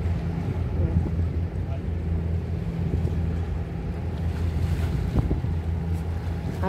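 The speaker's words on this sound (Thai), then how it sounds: "เรือยกของคลื่นใหญ่มาก ตีเป็นฟองเลยนะคะเพื่อนๆ" By the sea at Kennedy Town, Hong Kong, a cargo boat's engine hums steadily while big waves churn and wind rushes across the microphone, with someone talking over it.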